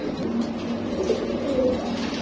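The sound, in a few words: pigeon cooing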